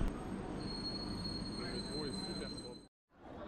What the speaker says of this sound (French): Là, on a un petit aperçu du métro à Pékin.